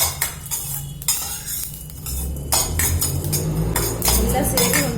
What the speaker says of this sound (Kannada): ಇದನ್ನ ಸ್ಟವ್ ಕಮ್ಮಿ ಇಟ್ಕೊಂಡು ಹುರ್ಕೊಳ್ಳೋಣ